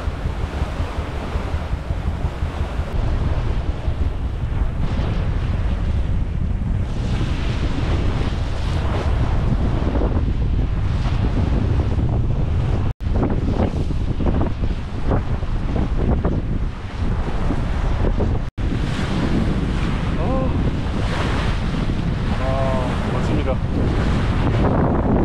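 Strong wind roars across the microphone while waves rush and slap against a 44-foot sailing yacht under sail alone in about 20 knots of wind, a loud continuous wash with no break.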